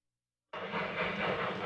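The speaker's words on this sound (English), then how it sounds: "Our eastbound train leaves Chama and heads toward the lunch rendezvous with the Antonito train at Osier." A narrow gauge train leaving Chama station starts suddenly after a silent moment, then continues as a steady, loud broadband rumble and hiss of rolling cars and steam.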